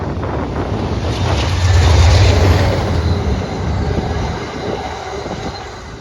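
An Amtrak passenger train led by locomotive P-4299 rolls past close by on CSX tracks in Lancaster, New York, with a steady roar and rumble of wheels on rail swelling and easing again, plus some wind buffeting on the microphone.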